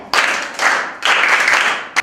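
A classroom of students claps in short bursts for classmates, three loud, close rounds of dense clapping separated by brief pauses, with one final quick clap at the end.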